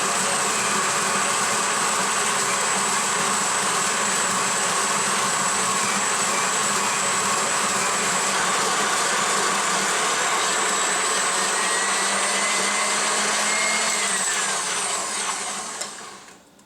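A Mockmill grain mill attachment driven by a KitchenAid stand mixer grinds grain with a steady, loud, dense whirring drone that holds for about fifteen seconds before winding down at the end.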